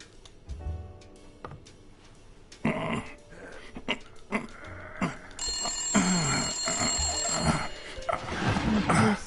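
Telephone ringing in the detective video game Blacksad: Under the Skin, repeated electronic rings cutting through music and game ambience, fairly loud and steady across the clip.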